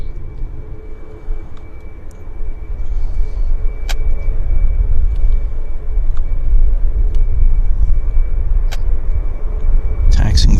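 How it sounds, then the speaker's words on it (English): An Air Canada Boeing 737 Max jet taxis at Vancouver Airport, a steady low engine rumble and drone heard from nearby outdoors, with sharp transient clicks and a burst of noise at the end. "We've got an Air Canada Max taxiing out right here before our very eyes"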